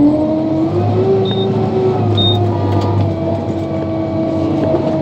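A tractor pulling a Krukowiak Goliat fertilizer spreader drones steadily at close range, its engine a constant low hum with a few faint high mechanical whines over it.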